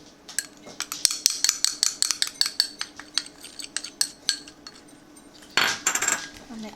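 A utensil stirs white dye into a shampoo bar mixture with quick, rhythmic clinks and scrapes against the container, close and clear, slowing and thinning out before one final louder burst of scraping.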